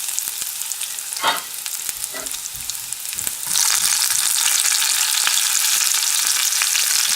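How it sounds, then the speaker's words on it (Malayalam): Garlic, ginger and green chili fry in oil over a low flame for a Kerala-style lemon pickle. A few stirring scrapes come first, then a loud, steady sizzle takes over as the ingredients hit the oil. "ഇനി നമുക്കിതിലേക്ക് തീ കുറച്ച് വെച്ചിട്ട് വെളുത്തുള്ളി ഇട്ട് കൊടുക്കുക"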